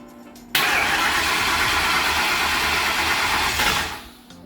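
An engine cranks loudly and steadily for about three seconds as someone tries to start it, then the noise winds down without catching.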